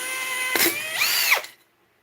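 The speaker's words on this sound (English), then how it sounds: "drill out the heads." A power drill spins up into a small screw head, a short, close whine that rises and bends in pitch for about a second before cutting off into silence.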